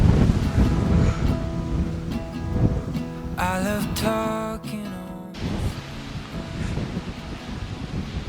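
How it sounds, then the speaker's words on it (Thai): Strong wind gusting across the mountain top at Khao Luang in Sukhothai, a broad rushing roar buffeting the microphone, with a brief burst of tonal rattling in the middle. "ลมแรงมาก"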